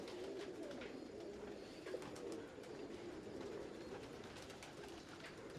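Pigeons of an old large-headed breed coo in a soft, continuous murmur over a steady background hum, fairly faint, with no voices.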